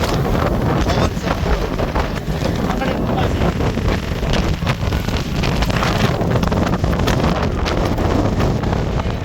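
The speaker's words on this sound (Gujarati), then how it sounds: "પવનનો જેટલો અવાજ આવે છે" Strong wind gusting across the open deck of a ro-ro ferry, a dense, loud roar buffeting the microphone without pause for the whole stretch.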